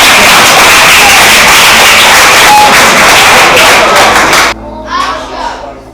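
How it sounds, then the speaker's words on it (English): An audience at a kids' technology event breaks into loud, dense applause mixed with children's cheering, sustained for several seconds before stopping sharply, followed by a few voices. "Give him a round of applause."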